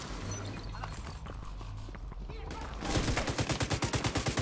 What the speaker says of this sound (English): they have a turret or something